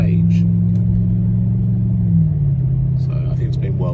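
A Mercedes 280SE engine drones low and steady under load while driving uphill, its pitch dipping slightly midway, with a voice speaking faintly over the rumble.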